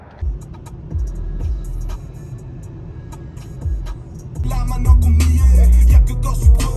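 A car drives along a road through open countryside near Calgary, its low engine and tyre rumble steady throughout and swelling louder and heavier in the last two seconds, with no talking.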